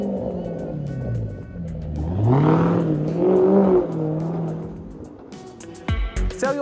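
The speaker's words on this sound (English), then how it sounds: "I'm going to start this engine up now and you listen for yourself." A Range Rover SVR engine starts and revs in rising and falling surges, loud and close, then cuts to a few short bursts.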